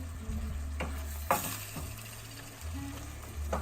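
South African chicken giblets curry being stirred in a pot over heat, a steady sizzle and bubbling with a spoon scraping and clinking against the sides every second or so, close and clear with no voices.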